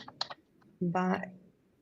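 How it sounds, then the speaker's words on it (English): Quick bursts of typing on a computer keyboard, a short cluster of clicks near the start, followed by a brief spoken voice nearby. "Yeah, I'll type it in here."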